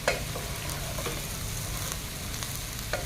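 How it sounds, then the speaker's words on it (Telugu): Mango rice pulihora is stirred in a pan just after the stove is switched off, a close, continuous faint sizzle with soft scraping strokes of the spoon and no talking. "ఇది బాగా మిక్స్ అయ్యేలాగా మనం కలుపుకోవాలి"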